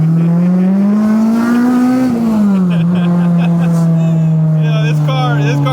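A K24-swapped Integra Type-R engine roars at high revs during a dyno pull inside the shop, a loud sustained drone that rises, dips briefly and holds near its peak.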